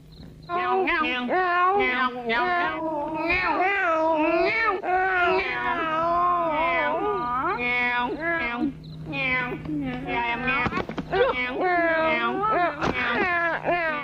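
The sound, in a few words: people imitating cat meows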